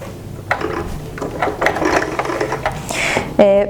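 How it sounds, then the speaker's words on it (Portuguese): Sewing machine running a seam on a handmade eco bag in a home sewing setting, a few short bursts of mechanical stitching mixed with cloth handling, ending in a louder, steadier whir near the end. "E a gente vai passar uma costura aqui"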